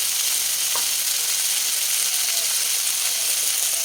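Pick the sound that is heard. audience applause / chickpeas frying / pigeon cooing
chickpeas frying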